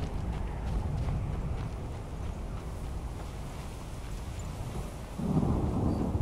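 A low, steady rumble of thunder rolls on after a lightning strike in the Skyrim video game. It swells slightly near the end over a dark ambient bed of wind and rain, with no voices.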